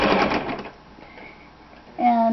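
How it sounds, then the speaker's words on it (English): A sewing machine stitches lace along an existing garment seam in a brief, close burst of motor hum at the start, followed by a quiet pause before a voice speaks. "Okay, so when sewing, just use the seam that's already there as your guide for sewing."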